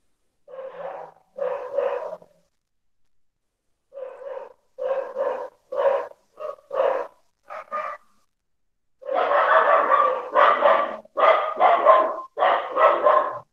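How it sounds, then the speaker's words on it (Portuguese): Several dogs bark in bursts, starting with a couple of separate woofs, then quicker clusters, and ending in a loud, dense run of overlapping barks from more than one dog, with short silences between groups and no voices. "Eita, cachorrada aí, hein, Mariana?"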